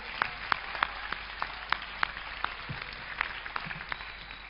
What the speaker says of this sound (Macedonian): Ве молам исто еден голем аплауз за Тане.